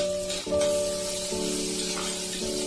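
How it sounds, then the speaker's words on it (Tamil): Chopped ginger sautés in a hot pan for varagarisi upma, a steady close sizzle with a soft bright crackle, while faint stirring clinks come and go. "அதையும் சேர்த்து கொஞ்ச நேரம் நல்லா வதக்கி விடுங்க"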